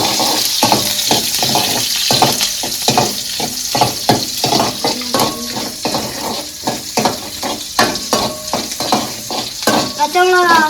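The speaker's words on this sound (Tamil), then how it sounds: "பச்சை மிளகா வதங்கிடுச்சு." Green chillies sizzle and fry in a pan for a prawn gravy, with a steady sizzle under repeated close stirring and scraping of a spoon against the pan, loud and continuous throughout.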